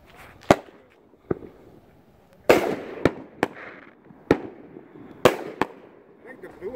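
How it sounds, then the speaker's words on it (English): A consumer firework cake fires sharp bursts one after another, single loud bangs with a few rapid doubles, ringing over a low crackling rumble between shots. "Willow Explosion Raccoon Fireworks."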